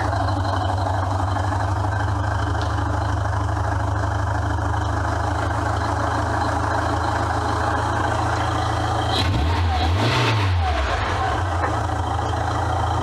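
A classic car engine, one of two rescued abandoned cars, idles steadily after warming up with the choke off, a constant low hum with a brief rise near the end.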